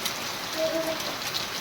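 Steady rain falls over a farm area at dusk, a dense, even hiss of drops on surfaces with no voices.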